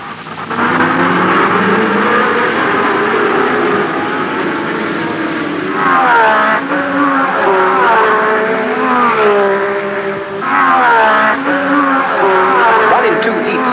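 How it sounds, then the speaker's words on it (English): A full field of Formula One cars pulls away at a race start at Brands Hatch with a loud, layered engine roar that rises and falls as several cars rev and accelerate together. "A capacity crowd watches as the full international Formula One field moves off for the first race of a"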